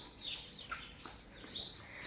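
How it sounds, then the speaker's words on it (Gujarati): Sparrows chirping in summer heat, several quick high tweets in short bursts, fairly close and clear against a quiet background. "ચક્કલીઓનો અવાજ સાંભળો"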